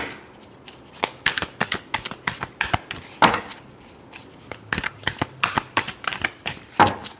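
Tarot cards being shuffled by hand up close, a rapid series of crisp riffling flicks and slaps in uneven bursts, with no talk.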